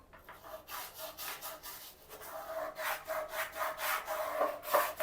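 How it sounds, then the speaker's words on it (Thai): A brush scrubs a bathroom floor coated in cleaner, giving repeated rhythmic scratchy strokes that grow steadily louder and faster, close by with no talking. "อ่าทีนี้ลองเอาแปรงมาขัด"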